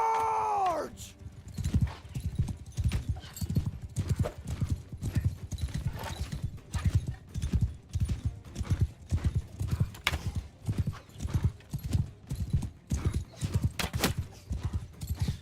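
A horse in Mount & Blade II: Bannerlord neighs briefly at the start, then gallops with heavy, rhythmic hoofbeats pounding close and steady for the rest of the battle scene.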